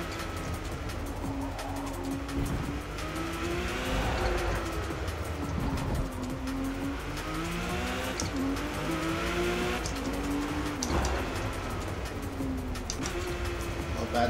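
A 2018 Porsche 911 GT2 RS races around Yas Marina Circuit in Forza Motorsport, its engine note rising and falling through gear changes and hard braking, with a voice speaking now and then.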